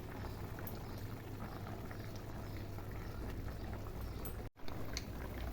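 Shrimp curry with potato and pointed gourd simmering in a pot, a steady soft bubbling hiss held at an even level throughout, with one brief dropout near the end.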